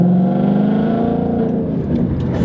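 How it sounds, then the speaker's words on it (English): A 4-cylinder Ford Mustang with a failing Roush driver's side axle-back exhaust, heard as a loud, steady droning engine note with a raspy, buzzing rattle, close and continuous without talk. "that exhaust, my driver's side axle back, the Roush is going bye-bye. It's making a racket."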